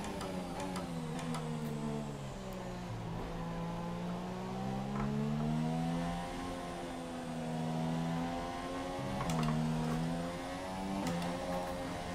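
Formula One car engines scream in the racing game F1 2017, layered high-pitched whines rising and dipping as the cars shift and accelerate. The steady, close engine drone runs throughout without talk.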